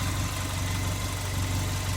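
A Suzuki Jimny fitted with a lift kit idles steadily with its engine running, a continuous low rumble with a faint knocking pulse, close by and alone with no voices.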